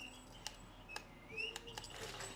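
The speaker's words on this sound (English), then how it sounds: "It chirps. It's just going to be chirping" A cat's chirping toy gives short, bright electronic chirps at intervals of roughly half a second, fairly faint against a quiet room with no talking.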